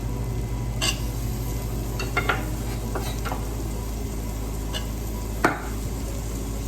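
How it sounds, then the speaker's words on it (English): Chopped onions and peppers hit a hot pan with tomato paste for chana masala, giving a steady low sizzle throughout with occasional stirring scrapes and a brief utensil knock near the end. "we're going to go in with our chopped onions and peppers"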